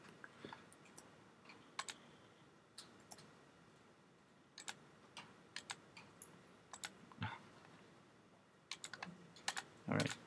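Computer mouse and keyboard clicks from someone arranging a layout, light scattered taps and clicks close to the mic, faint and irregular, with a brief murmur of voice near the end.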